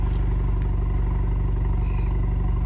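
Honda Accord 2.0T with a Borla exhaust gives a loud, close, steady throaty rumble with an even pulsing idle tone, heard alone without talk.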